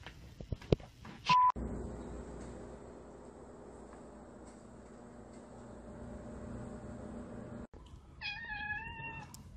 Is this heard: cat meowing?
yes